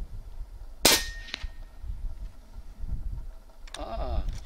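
A Wrangler Phenom moderated PCP air rifle fires: one sharp, loud shot near the start, a quick second report after it, then a buzzy pellet impact or ring toward the end, with faint room noise between.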